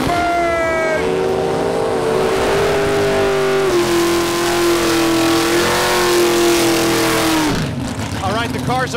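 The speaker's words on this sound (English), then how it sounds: "All right, the cars have burned out." Muscle-class drag race cars doing burnouts at Lapeer International Dragway, a loud sustained engine roar with a held high-revving tone that dips slightly midway and then cuts off near the end, with a voice talking over it.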